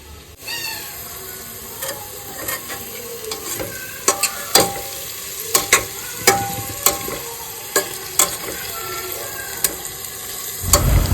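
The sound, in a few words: frying ingredients for chicken soup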